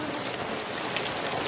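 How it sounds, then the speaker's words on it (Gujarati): Heavy monsoon rain pours steadily outdoors in a Gujarat village, a dense, continuous hiss of drops drumming on surfaces with no pauses, loud and close throughout. "જુઓ તમે કે વરસાદ વધે જાય, ઓછો થતો નહીં પણ વધે જાય"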